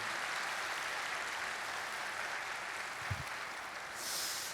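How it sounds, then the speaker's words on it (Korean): Congregation at a Korean church service applauding a visiting preacher after his sermon, a soft, steady patter of clapping heard from a distance, fairly quiet throughout with a brief low thump near the end. "큰 박수 부탁드리도록 하겠습니다"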